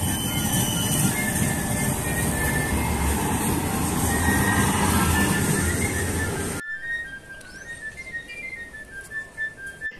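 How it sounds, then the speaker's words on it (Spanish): A modern tram in Vitoria-Gasteiz rumbles past close by with a steady roar and a high whistling wheel squeal, then cuts to quieter background with faint squealing tones. "Vitoria tiene también un moderno tranvía."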